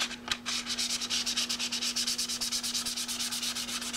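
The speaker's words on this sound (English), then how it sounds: "I can just a light sanding on this, pick up any of the high spots" Rapid, rhythmic light sanding strokes on a primed FZR motorcycle part rasp back and forth close by, a steady scratchy scrubbing with a faint constant hum underneath.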